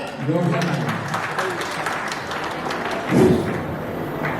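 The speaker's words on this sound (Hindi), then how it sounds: "चलिए जोर से तालियां।" An audience claps at a Bharat Vikas Parishad honors ceremony, a steady moderate round of applause with a few thuds and some talking mixed in.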